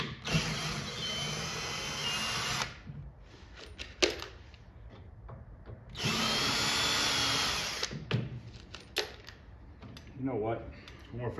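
A power drill spins as screws are removed from the coin door of a Pole Position arcade cabinet under restoration, with two sustained whirring runs separated by clicks and handling noises, fairly quiet and close.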